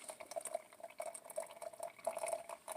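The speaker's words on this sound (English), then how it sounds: "all you do is pour your hot boiling water over the top" Hot boiling water poured over coffee grounds for off-grid coffee during a power outage, a soft continuous trickling and bubbling pour, faint and close, with no voices.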